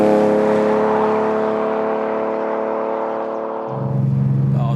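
TVR T350C 4.0L S Red Rose sports car with a Sagaris engine driving on a bumpy road, a loud steady engine drone heard from inside with strong low tones, easing off briefly before pulling again.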